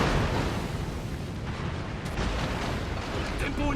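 A warship detonates in a World of Warships naval battle, a dense, rumbling explosion roar that fills the whole stretch with steady, heavy battle noise.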